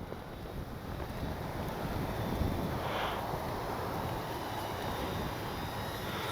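Strong gusting wind roars steadily and close over an RC Avios Twin Otter model plane coming in to land outdoors, a broad rushing noise that masks any motor sound and holds throughout.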